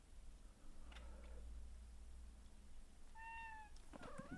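A pet cat named Miaou gives a single clear, close meow that rises and falls, preceded by a faint short chirp, over a steady low hum.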